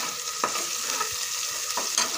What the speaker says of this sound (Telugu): ఇది బాగా ఫ్రై చేద్దాము.